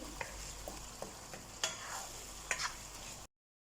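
Minced mutton qeema with tomato paste cooks over a high flame in a karahi, giving a steady moderate sizzle broken by a few sharp scraping stirs and clinks, then cutting off briefly near the end.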